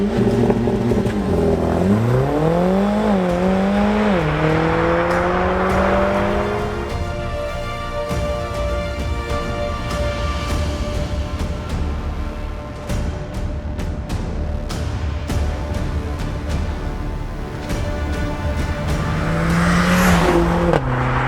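A 2020 Mercedes CLA45 AMG four-cylinder on a wet road, engine revving up through gears with rising and falling pitch, loud and close throughout, with road and wind noise between pulls.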